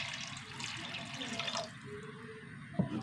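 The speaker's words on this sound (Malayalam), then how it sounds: "ഇനി വെള്ളം ഒഴിച്ചു കൊടുക്കും" Water pours steadily and quietly into a pot of turmeric-seasoned curry for a few seconds, ending with a small knock.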